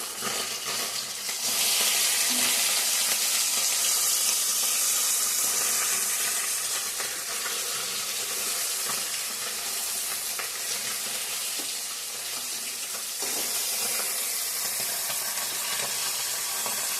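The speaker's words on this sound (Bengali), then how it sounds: "মাছগুলো ভাজা করে নিচ্ছি বন্ধুরা।" Pabda fish sizzling in hot oil in a frying pan, a loud continuous close-up hiss with crackles and occasional stirring noises, holding steady throughout.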